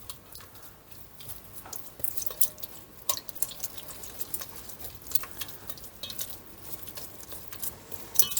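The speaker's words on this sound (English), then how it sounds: "And slowly add your milk in." Milk poured slowly into a cooked flour mixture in a pan for homemade chicken and vegetable pies, faint liquid trickles and soft sizzling splashes with small clinks, quiet and close.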